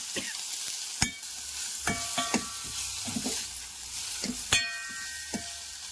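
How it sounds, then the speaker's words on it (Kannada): Tomatoes and grated coconut fry in a pan for pepper rasam, giving a steady close sizzle broken by sharp scraping clinks of a spoon stirring against the metal, with no talking. "ಟೊಮೊಟೊ ಹಣ್ಣು ಹಾಕಿ ಫ್ರೈ ಮಾಡೋಣ. ಟೊಮೊಟೊ ಹಣ್ಣು ಸ್ವಲ್ಪ ಮೆತ್ತವಾಗೋಷ್ಟು ಫ್ರೈ ಮಾಡ್ಕೊಳ್ಳೋಣ."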